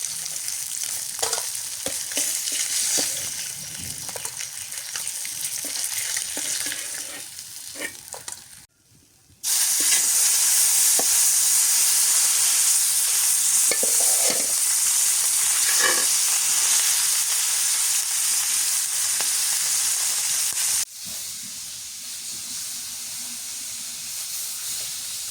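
Fish frying in a pan on a village kitchen stove gives a steady, close, loud sizzle and hiss, briefly dropping near the middle before resuming at full strength, with no talk over it.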